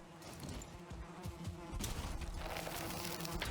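A bee buzzes in the game Valheim, a faint, steady insect drone heard alone against a quiet outdoor game soundscape.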